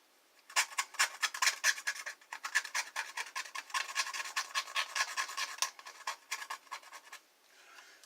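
Rapid scraping strokes across a computer circuit board to bare its gold plating, a close, dry rasping rhythm of quick repeated scratches for several seconds, then a softer pause.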